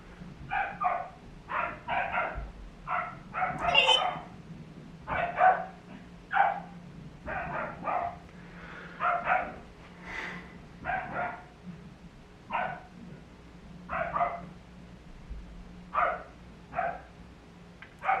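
A dog barks repeatedly from downstairs, muffled and somewhat distant, in irregular bursts of single and doubled barks spread over the whole stretch, with a low steady room hum underneath.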